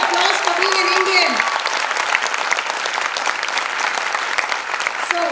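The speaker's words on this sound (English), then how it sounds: "Guys, huge round of applause for being an Indian." Loud, dense audience applause at a Republic Day speakers' event, sustained throughout, with a voice briefly audible at the start.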